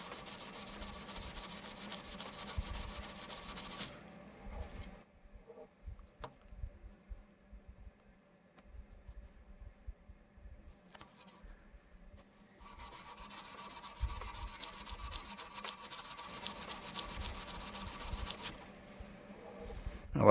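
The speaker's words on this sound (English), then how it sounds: "the steel wool gives it a shine that sandpaper won't necessarily do" Steel wool rubs briskly back and forth over the frets of a Gretsch Jim Dandy guitar, a dry scratchy scrubbing in two long bursts separated by quieter pauses and scattered light taps.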